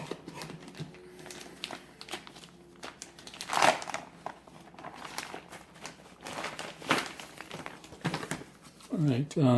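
Plastic packaging crinkles and crackles in scattered bursts while an MST CFX-W crawler chassis kit is unboxed, close and fairly quiet, with a person talking near the end.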